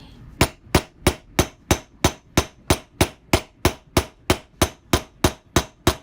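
A hammer pounds steadily on the catalytic converter of a 2018 Chevy Camaro to hollow it out, about seventeen loud, evenly spaced metallic blows close by, with no talking.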